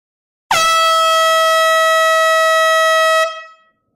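A single loud air horn blast, steady and piercing for about three seconds before cutting off and ringing away.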